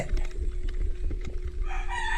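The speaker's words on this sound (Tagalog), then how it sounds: "Ops, manok." Chickens cluck and a rooster calls amid low background rumble, close by and fairly loud, with a brief burst of higher squawking near the end.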